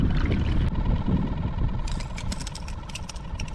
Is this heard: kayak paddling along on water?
yes